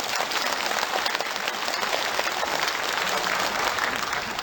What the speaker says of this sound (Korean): 박수 쳐봐.